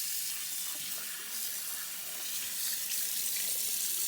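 A water tap runs steadily into a sink while underwear is rinsed, giving a continuous, close, even hiss of flowing water throughout with no talk.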